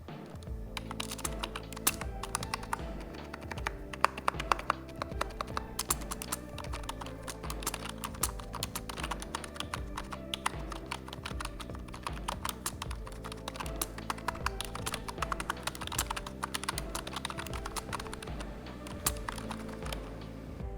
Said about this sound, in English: here's a sound test of the MK1500 mini for you guys.